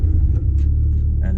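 A Nissan Sunny Coupe GTi on a Swiss mountain road rumbles low and steady in a brief, close burst of engine sound.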